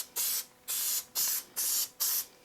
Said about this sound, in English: I'll do it with this spray-on Elmer's glue